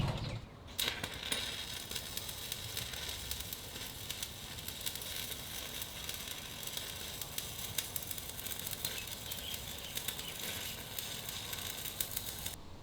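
Stick welding with a 7018 rod above the fuel tank of an aluminum flatbed dump bed, giving a steady, close crackling sizzle that holds almost without a break for the whole stretch.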